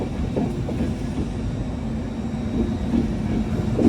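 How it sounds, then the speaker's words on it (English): An LNER Class 91 electric train in a retro LNER colour scheme passing through a mainline station, a steady low rumble of wheels and rail noise that swells slightly toward the end, with no talk. "Here comes 91127. In a retro LNER colour scheme by the looks of it."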